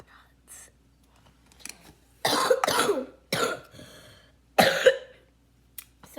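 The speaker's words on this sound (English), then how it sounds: "Sorry, I have a cough" A child coughs several times in short bursts, close and fairly loud, with quiet gaps and faint breathy noise between the bursts.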